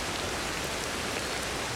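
Heavy in-game rain pours down as a thick, uniform hiss of droplets, close and constant throughout the brief stretch.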